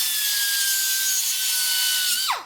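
Steady, continuous grinding or filing on the cut edge of threads during a '57 Chevy delivery build, a harsh sustained rasping that holds for about two seconds, then drops in pitch and stops abruptly, close and loud.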